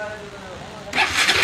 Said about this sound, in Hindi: चलो हम बाइक के ऊपर स्टार्ट करता हूँ